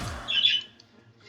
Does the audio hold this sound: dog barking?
no